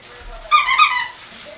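A disc squeaker inside a crinkle, wearable dress-style dog toy squeaks in one sustained burst of high, harmonic tones, fairly loud over a quiet room.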